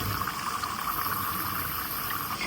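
A window-cookie mold dipped in saffron and rosewater batter is lowered into hot frying oil, producing a steady, close crackling sizzle with no talk.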